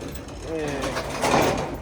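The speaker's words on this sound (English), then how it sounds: "That is definitely a printer." A printer running, giving a close mechanical whirring with ratcheting, gear-like rattles that swell toward the end, with voices talking over it.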